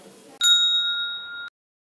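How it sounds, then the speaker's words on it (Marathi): A single bright notification bell dings once and rings clearly for about a second before cutting off abruptly. A faint low murmur comes before it. "लाईक करा, सबस्क्राईब करा आणि ही घंटी वाजवा।"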